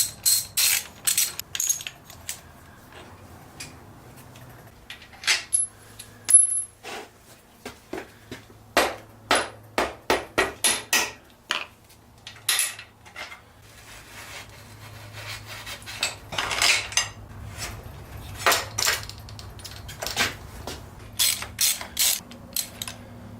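Socket wrench removing bolts from a Yamaha YZ125 dirt bike, close, sharp ratcheting clicks in quick bursts separated by pauses, with a low hum in the background.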